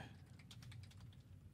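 Fast, uneven typing on a computer keyboard, a soft run of close key clicks with a few louder taps, faint and continuous with no voices.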